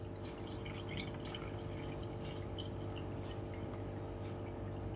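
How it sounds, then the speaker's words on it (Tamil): Water is poured into an aquarium tank during setup, a continuous close splashing and gurgling with fine dripping, steady and moderately faint throughout, with no talking. "ஸோ இப்போ நம்மளோட ஃபர்ஸ்ட் ஸ்டெப் என்னென்னா தண்ணி ஃபில் பண்ணுறது."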